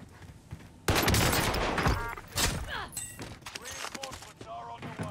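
Gunfire from an Owen Gun submachine gun in Call of Duty Warzone, heard as dense bursts of rapid shots with thumps and impacts in loud stretches after a quiet start, mixed with game sounds.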